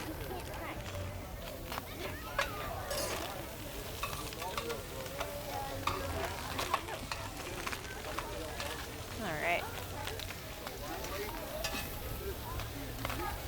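Garlic and tomatoes sizzle and crackle steadily in a hot pan, with stirring scrapes, while a person talks briefly over it.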